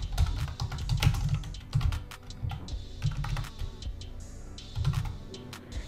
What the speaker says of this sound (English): So open your search bar and type control panel.